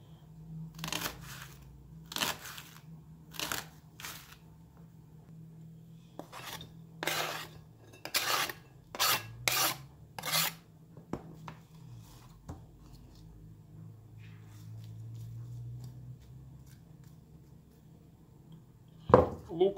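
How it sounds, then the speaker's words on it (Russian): Knife slicing leek thinly on a board for a salad, a series of crisp short chopping cuts in irregular bursts, close and fairly quiet, with a low steady hum beneath. "Режу для начала вот лук-порей потоньше."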